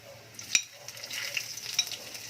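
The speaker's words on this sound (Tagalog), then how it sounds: "Ating sibuyas. Tapos imikos-mikos po natin ulit." Garlic and then onion sautéing in a pan, stirred while frying, for ginataang cassava leaves: a steady soft sizzle with a few clinks and scrapes of the spatula, close up and without talk.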